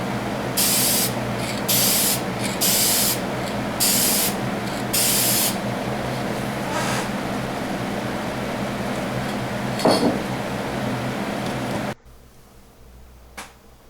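A spray can laying a black lacquer base coat on a diecast Ferrari model: five short hissing bursts in a row, then a longer fading spray, a faint clunk and near silence.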